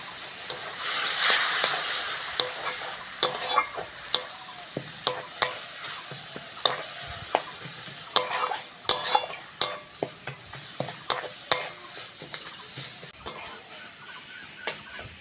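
Turmeric, chilli and cumin powder sautéing in a pan for a small-fish and green-tomato curry, with a steady sizzle and frequent sharp scrapes and clinks of a spatula stirring against the pan, close and fairly loud.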